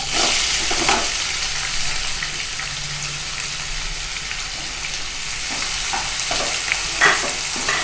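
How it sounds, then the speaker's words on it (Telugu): Onions frying in a pan with bay leaf, cumin, cinnamon, cardamom and cloves, a steady close sizzle with occasional stirring scrapes, no voices, for a restaurant-style mushroom masala. "ఆనియన్ యాడ్ చేసుకొని ఫ్రై చేసుకోవాలి."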